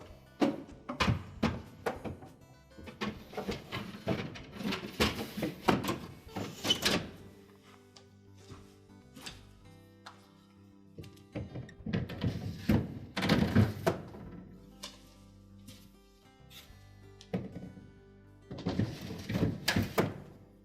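Refrigerator shelves in a General Electric fridge are slid and set back into place, giving bursts of close plastic and glass clunks, scrapes and knocks separated by short quiet gaps.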